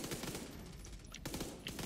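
Rapid machine gun or SMG fire in The Division 2 video game, dense repeated bursts running through most of the stretch with a short gap partway, fairly loud against game background noise.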